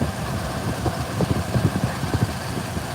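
A 2007 Ford Explorer 4.0L engine idles with a misfire, a steady mid-pitched rumble broken by uneven, stumbling pulses, close and loud with no talk.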